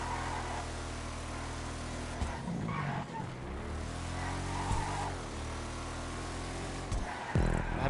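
A car in GTA 5 Online skids and slides, engine droning steadily while tires scrub through turns, with a few brief thumps and bursts of louder tire noise.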